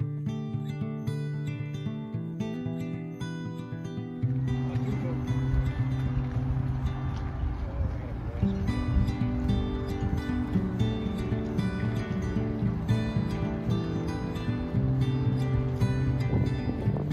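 A cruise boat's engine drones steadily on open water on Seneca Lake, New York, with wind and a faint wash of waves, while background music plays throughout.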